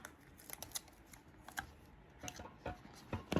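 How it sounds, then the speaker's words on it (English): Adhesive tape pulled and pressed onto the sole of a handmade Swedish clog, a series of quiet, close crackles and soft taps at an uneven pace. "And I place another piece of tape right there"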